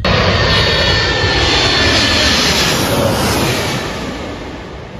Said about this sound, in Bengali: দেখুন মাথার উপর দিয়ে কিভাবে ল্যান্ড করে বিমানটি।